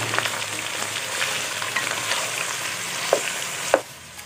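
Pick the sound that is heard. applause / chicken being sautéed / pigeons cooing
chicken being sautéed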